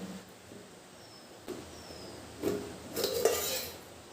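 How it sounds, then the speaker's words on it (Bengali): The lid of a steamed bori bhapa container, just lifted out of hot water, comes off in a few soft metallic clinks and scrapes that follow a quiet pause, fairly close and moderately faint. "এবার মুখটা আমি খুলবো।"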